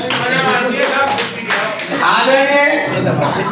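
Audience applause at a municipal council board meeting in Gangapur City, with dense clapping from many hands filling the hall and voices and chatter mixed in.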